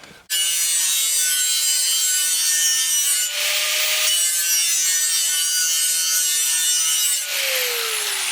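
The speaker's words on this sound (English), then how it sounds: "you can see the sparks flying off from the grinder" An angle grinder whines steadily against the blade of a garden shovel clamped to a table outdoors, a loud continuous abrasive grind with slight pitch dips as the disc bites.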